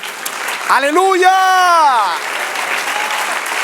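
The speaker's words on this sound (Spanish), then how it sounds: "Dale un aplauso, Señor." A church congregation applauds during a sermon, clapping running throughout while a loud voice shouts an exclamation over it near the start.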